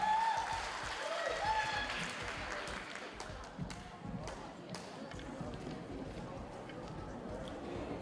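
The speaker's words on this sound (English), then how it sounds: "Let's give them a big applause again," Audience clapping for the top five male finalists at a man and lady contest, a steady broad patter of hands filling the whole stretch with a faint voice over a PA near the start.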